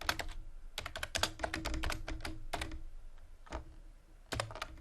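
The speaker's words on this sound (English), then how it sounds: "I'll type John 3:16 on the Message." Rapid typing on a computer keyboard while entering a Bible verse reference into Bible study software, with dense irregular clicks in quick bursts and short pauses, close and clear with no voice.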